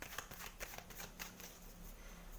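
Tarot cards for a Virgo love reading are shuffled and drawn, giving soft, quiet riffling and flicking with small papery taps in quick clusters.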